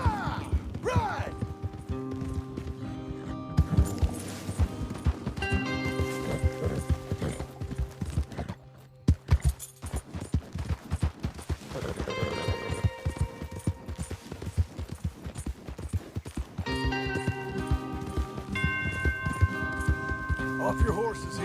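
Horses gallop hard in Red Dead Redemption 2, a fast clip-clop of several sets of hooves under music and gunfire, with characters shouting and talking over the ride.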